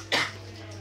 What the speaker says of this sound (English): I keep coughing all over you